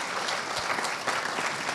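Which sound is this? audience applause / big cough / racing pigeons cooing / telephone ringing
audience applause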